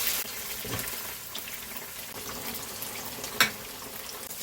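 Tofu frying in a hot pan with cooking oil over medium-low heat sizzles softly and continuously, with a faint crackle and one brief sharper pop near the end.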